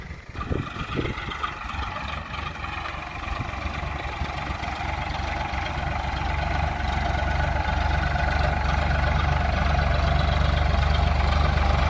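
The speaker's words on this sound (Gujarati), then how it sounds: "ફાઇનલી ટ્રેક્ટર આવી ગયું" A farm tractor's engine idles in a village field, a steady low diesel rumble that builds slightly louder and stays constant, close by with no talk.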